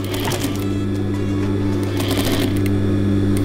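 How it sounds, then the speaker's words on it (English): A sewing machine stitches across plastic bag material to close a zipper top, running steadily and loudly for the whole stretch with a brief change in pace partway through. "So I'm just going to sew this piece across here."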